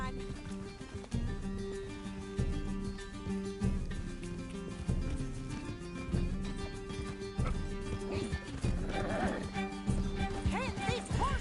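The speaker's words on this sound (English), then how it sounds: "Can't this horse go any faster?" Horse hooves pound in a galloping clip-clop in Red Dead Redemption 2, heard under a busy game mix of music, whinnies and loud shouted voices throughout.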